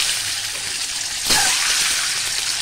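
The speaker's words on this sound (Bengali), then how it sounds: "বেশ লাল করেই আমি একটু কড়া করেই ভেজেছি ডিমগুলো" Eggs slide into very hot oil for an egg masala curry, and a steady frying hiss jumps into a louder, fuller crackle about halfway through, then holds close and continuous with no talk.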